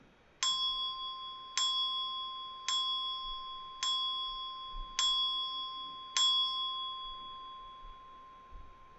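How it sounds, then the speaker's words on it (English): A bell rings six times, evenly spaced clear dings, each ringing out and fading before the next strike. "the bell rang 6 times"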